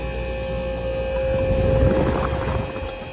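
Refrigeration condenser fan motor on a Manitowoc ice machine cycling oddly, a steady mechanical drone with a sharp tonal hum and broadband whoosh that swells slightly and fades.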